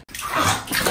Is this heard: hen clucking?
no